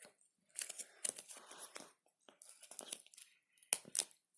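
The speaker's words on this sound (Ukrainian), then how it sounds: "зараз це відкрию ось цей свій пакетик" A plastic packet is torn open by hand, producing a series of sharp ripping and crinkling bursts with brief quiet gaps between them, close and fairly soft.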